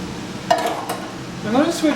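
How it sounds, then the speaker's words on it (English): A cooking pan clinks and clatters against a stove while being swapped out in a home kitchen making crepes, two or three short metallic knocks close by, with a voice talking over them. "I'm going to switch out my pan now"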